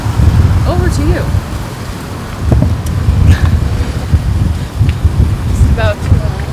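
Strong wind buffeting the microphone in rough, low gusts, with a voice talking intermittently over the roar.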